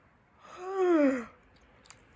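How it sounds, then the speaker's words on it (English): A single drawn-out yawn rising and sliding down in pitch, close and clear, with no talk over it, during a quiet crochet session with a rainbow loom. "so sorry for all my yawning."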